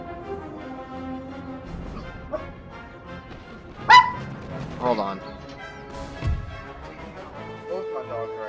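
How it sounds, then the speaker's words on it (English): Two excited pet dogs bark and yip in short bursts around a voice, with a sharp crash-like spike midway, all heard over background game sounds and talk. "Both my dogs are acting crazy."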